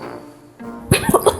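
A few sharp coughs from a child burst out in quick succession after a quiet moment, close to the microphone.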